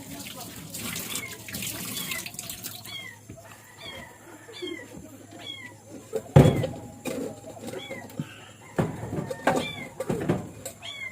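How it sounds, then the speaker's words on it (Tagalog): Several cats meow repeatedly in short cries, with running water and a few clattering bumps nearby, plus brief talk. "Ang mga iring ito na sila kabuok diri"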